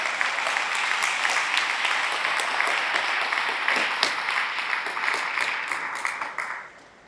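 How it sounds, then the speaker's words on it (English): Hall audience applauding the Mitchell family at the Parren J. Mitchell memorial dedication, a full, continuous round of clapping that holds steady, then tapers off near the end. "give them a round of applause"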